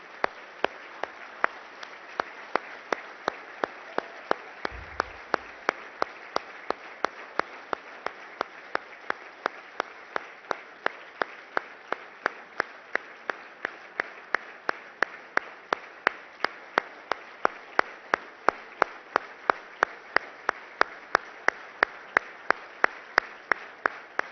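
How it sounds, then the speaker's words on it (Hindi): An audience rising for a standing ovation, applauding loudly in a long, dense, sustained wave of clapping with steady rhythmic beats throughout. "सब अपने अपने स्थान पर खड़े होकर जोरदार करतल ध्वनियों के साथ"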